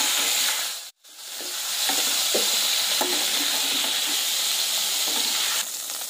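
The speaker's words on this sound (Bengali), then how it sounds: "এই আলুগুলো ভেজে নেব" Potatoes fry in hot oil with salt and turmeric added. A steady close sizzle carries scattered stirring clinks, with a brief drop in sound near the start.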